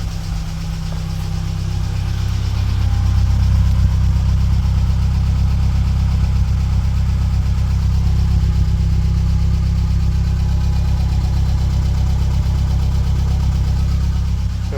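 A classic Mini engine idles steadily up close, a continuous low rumble with a faint mechanical tick and no voices.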